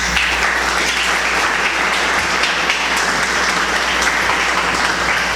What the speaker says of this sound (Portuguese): Aplauda a palavra de Deus, filho.